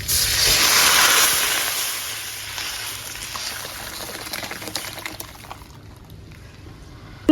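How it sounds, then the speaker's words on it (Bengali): Cooked dal poured into a pan of fried onion tempering, a broad liquid rush that starts loud and thins into a softer trickle and splash over several seconds, with no talk. "এখন ডাল দিয়ে দেবো।"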